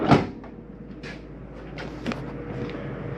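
Large pan drawer in the kitchen of a 2022 Jayco Eagle 28.5RSTS fifth-wheel camper, opening or closing with a sharp slide and thump at the start, followed by a few soft knocks and rattles.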